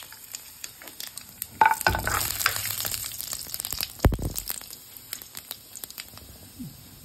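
Fennel and mustard seeds frying in oil for a traditional Jaffna gar fish curry give off sharp crackles and pops. Louder bursts of sizzling and stirring rise in the middle, and the sound is fairly close and alone.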